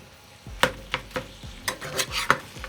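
A utensil stirs food around a frying pan while cooking lasagna, making a series of close scraping and clattering strokes about every half second over a soft, steady sizzle.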